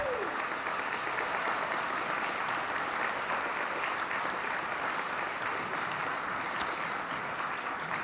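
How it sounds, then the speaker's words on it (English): Gala dinner audience gives sustained, dense applause, an even wash of many hands clapping throughout at steady volume, with a brief sharp click near the end. "Let's give these ladies a round of applause."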